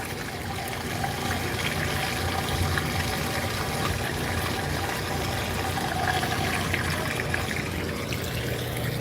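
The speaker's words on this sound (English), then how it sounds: "I'll show you all the drain from that drain pump. So here's it draining." A washer dryer's drain pump pushes water out in a steady, continuous wash of trickling and gurgling over a low hum, unchanging for the whole stretch.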